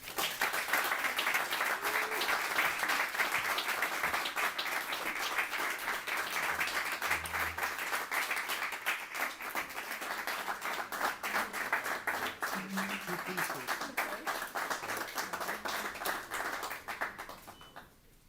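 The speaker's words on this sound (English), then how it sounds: "how about one more round of applause for Deborah, please?" An audience at a business hall of fame ceremony in Southwest Virginia applauds steadily, dense clapping that holds at an even loud level for about eighteen seconds before tapering off at the end.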